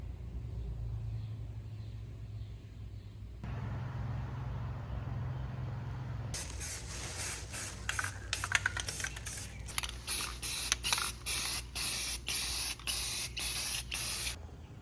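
Aerosol spray paint hisses inside the frame of a rusty Jeep Wrangler, starting as a steady spray, then breaking into a quick series of short rhythmic bursts, loud and close.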